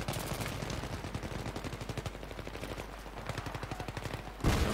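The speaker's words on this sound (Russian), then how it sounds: "надо будет пострелить сейчас на записи" Rapid automatic gunfire on the Noshahr Canals map of the video game Battlefield 3: long, steady bursts of fast, evenly spaced shots, ending in a louder, heavier blast.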